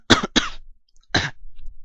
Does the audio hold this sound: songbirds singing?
no